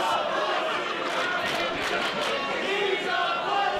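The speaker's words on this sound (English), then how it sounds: "the crowd's chanting here tonight" Crowd at a live wrestling event chanting in unison, a dense, steady roar of many voices filling the hall with rhythmic swells throughout.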